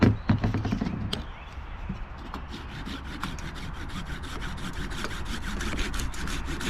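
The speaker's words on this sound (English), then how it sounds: "let me go grab a sanding block and we'll get this one cleaned up" A sanding block scrubs a ding on a board in quick, repeated rasping strokes, close and fairly quiet, after an opening thump of handling.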